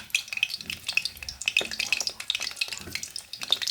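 Squid rolls sizzle and crackle as they fry in hot oil, a steady dense frying hiss close by with small pops and a few stirring clinks, no talking.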